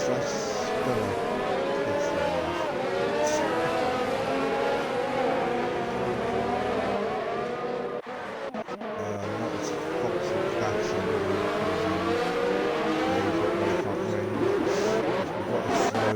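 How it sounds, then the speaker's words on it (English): Race car engines roar continuously in an online Formula 1 racing game at the Bahrain Grand Prix, with layered high-revving whines rising and falling as cars pass. A commentator talks over the engine noise throughout. "Oh, and there's a Ferrari spinning, and that's Jorke, and Jorke's out of the race."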